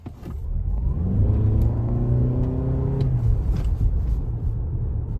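A 2025 Toyota RAV4 with a 2.5-liter naturally aspirated hybrid engine accelerates hard, its rising engine note climbing steadily over a loud, continuous road rumble for several seconds before settling into a steady drone.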